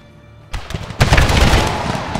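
A Civil War battle video game fires a musket volley as Partisan Rangers close in. A sharp crack is followed half a second later by a dense, rolling burst of many loud overlapping shots that keeps booming.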